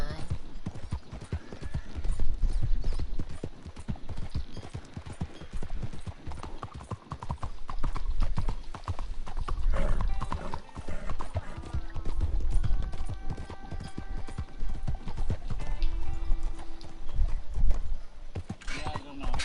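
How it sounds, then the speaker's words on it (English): Horse hooves clip-clopping and galloping in Red Dead Online, repeated rhythmic thuds at close range with occasional whinnies, heard under a player's talk throughout. "Horse got scared and ran off on me."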